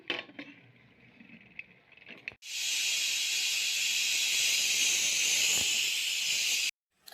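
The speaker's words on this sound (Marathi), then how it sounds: "आता आपण कुकरला झाकण लावून 4 शिट्ट्या काढू." A lidded pressure cooker holding egg biryani lets off a loud, sustained steam hiss for about four seconds, then stops abruptly. Quieter kitchen clatter comes before it.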